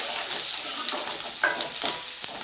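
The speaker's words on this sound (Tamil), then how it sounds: "இதெல்லாம் எல்லாம் நல்லா வதங்கட்டும்" Curry leaves, green chilies and shallots sautéing in a pan for beetroot greens kadayal, a steady close hiss of frying oil with a few soft stirring scrapes, no voices.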